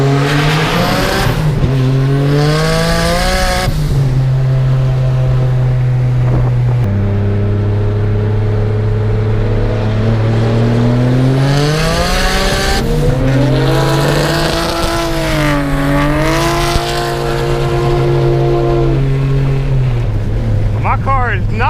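A car with a built VQ35 engine revs hard and loud throughout, pitch climbing and dropping through gear changes, with tire squeal layered over the roaring exhaust at close range.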